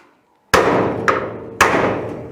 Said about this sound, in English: I'm just going to simply give it a bit of a whack here with a hammer